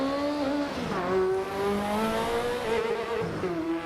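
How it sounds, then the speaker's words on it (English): A race car in Assetto Corsa EVO revs hard, and its engine note drops and climbs through gear changes. A brief tyre chirp comes with wheel spin on an upshift, loud and close, with stepped harmonic engine tones. "that was wheel spin as we switched gear"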